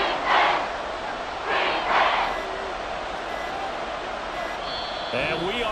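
Stadium crowd cheering in a Madden football video game near the end of a close game, a steady roar with swelling surges and whistle-like shouts, running under commentary.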